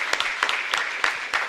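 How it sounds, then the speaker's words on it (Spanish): A small congregation claps for Paraguay inside a chapel, a brief round of sparse, uneven hand claps in quick succession, close and fairly loud. "Así que un fuerte aplauso para el Paraguay."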